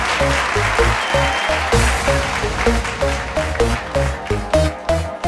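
Loud, sustained applause from a studio audience at a televised reality show, continuous clapping mixed with rhythmic music beats throughout.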